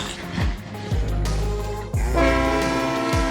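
A train horn blares loudly and close, long sustained blasts over the rumble of a passing train, with a sliding whistle-like sweep.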